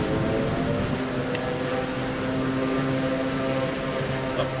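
Propeller aircraft engine droning steadily during takeoff in a flight simulator set over Gippsland, Victoria, Australia, a loud continuous buzzing hum with a constant pitch and no talking.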